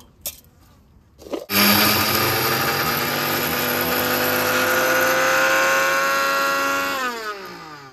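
An electric grinder whirs up after a few soft knocks and grinds rice to a coarse, grainy powder, a loud steady drone lasting several seconds that dips in pitch as it winds down.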